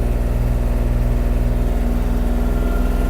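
A Kubota GL-29 mini tractor engine runs at its lowest gear speed, a steady, loud, low mechanical drone with an even pulsing rhythm and no voices.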